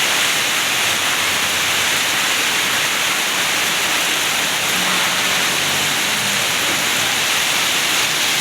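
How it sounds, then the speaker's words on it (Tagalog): Steady heavy rain pours down loud and close as a dense, unbroken hiss that never lets up, with no voices anywhere over the continuous downpour. "Naulanan ta."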